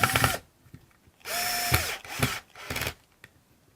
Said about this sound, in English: put it in and tighten up the screw again